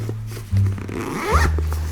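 A single zipper on a Bellroy Classic Tote is pulled open in one quick, close rasping stroke, with faint fabric handling around it.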